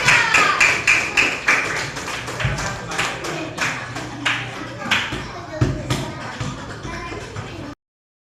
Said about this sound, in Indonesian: Sekarang beri tepuk tangan dulu untuk kelompok pemenang ini.